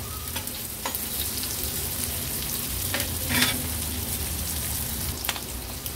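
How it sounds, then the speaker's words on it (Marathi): Jitada fish pieces, lightly coated in flour, fry in shallow oil over a low-medium flame. A steady, close crackling sizzle runs throughout, with a few faint clicks from the utensil. "आता 3 ते 4 मिनिटांसाठी लो टू मीडियम फ्लेमवर ह्या तुकड्या आपण व्यवस्थित तळून घेणार आहोत"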